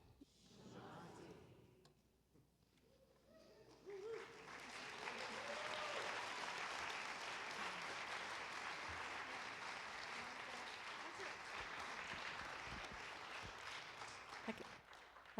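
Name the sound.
audience applause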